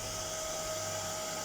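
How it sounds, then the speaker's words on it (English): A hair dryer blows warm air onto a Tag Heuer Carrera watch dial during repair, a steady, even whirring drone that holds close and constant throughout. "Little bit of hairdryer"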